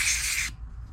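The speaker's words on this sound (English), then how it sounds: "Let's use some carbon throttle body cleaner." Carbon throttle body cleaner sprays from an aerosol can in one close, loud hissing burst during a Mercury SportJet fuel pump rebuild, cutting off sharply halfway through and leaving a quiet low room rumble.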